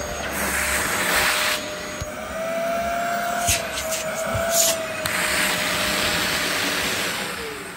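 Dyson DC04 vacuum cleaner running on carpet, a loud, steady motor roar with an airy hiss and slight shifts in pitch as it is pushed along.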